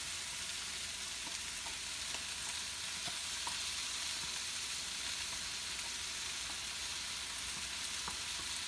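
Poblano pepper strips fry in a pan for rajas con queso, giving a dense, constant sizzle with faint crackles and occasional soft pops close by, with no one talking.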